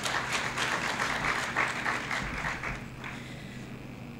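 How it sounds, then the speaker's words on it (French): An audience at a professional-week school event claps in a dense burst of applause that fades out over a few seconds, leaving a quieter room tone. "Veuillez les applaudir, s'il vous plaît."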